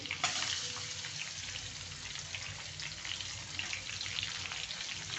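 Onion tossed into hot oil with cumin and garlic for pithla, giving a continuous close, even hissing sizzle with fine crackle, no talk.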